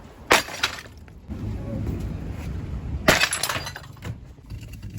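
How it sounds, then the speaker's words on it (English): Rubble is smashed into a skip at a waste site, giving two loud crashing, breaking impacts a few seconds apart, each trailing off into clattering debris. "Let's go and smash some rubble into this skip."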